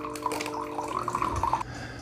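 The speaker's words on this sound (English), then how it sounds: "Now that water coming out of there is hot," Hot water runs from a Keurig K-Mini Go brewer in descale mode, a steady pouring trickle with bubbly splashes close by, which stops abruptly near the end, leaving a low hum.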